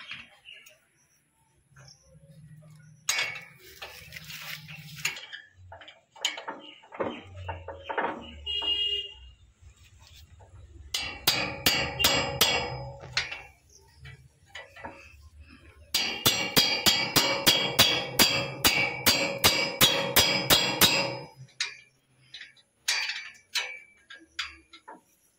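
Close, bright metal clinking and tapping ring out as blades are fitted onto a tractor rotavator, with rapid runs of ticking strikes and a few heavier knocks. Talk comes in between the bursts.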